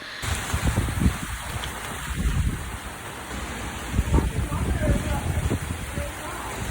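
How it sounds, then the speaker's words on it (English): Hail pelting down outdoors during a loud spring thunderstorm, a dense steady patter with gusty surges of wind and a few low rumbling swells, with voices faintly under the roar. "I was filming like the hail coming down, and you just see a flash, and then you hear the thunder"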